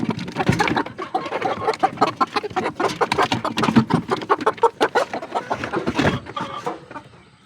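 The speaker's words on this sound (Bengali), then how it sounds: "এখানে মুরগি আছে, মোরগ 2টা, মুরগি 2টা" Native desi chickens, two hens and two young roosters, cluck in a rapid, busy run of close, overlapping calls that tail off near the end.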